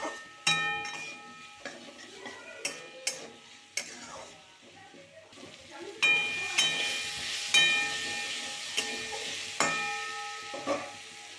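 A tomato and spice mix with turmeric is sautéed in a pan, a spoon clacking against the metal at irregular intervals while a soft sizzle swells into a louder steady hiss partway through, with faint tonal sounds in the background.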